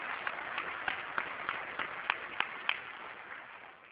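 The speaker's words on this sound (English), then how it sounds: "let's have a round of applause for them" An audience at a convention applauding law clerks and volunteers, a thin, distant patter of clapping with a few sharper individual claps, fading out toward the end.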